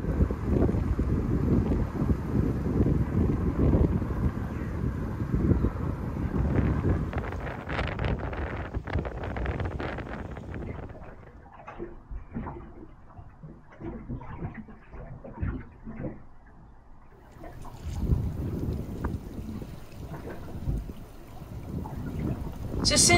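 Strong storm wind of nearly 50 mph buffets a moored boat, with loud rumbling gusts and microphone wind noise that ease partway through and then return hard toward the end.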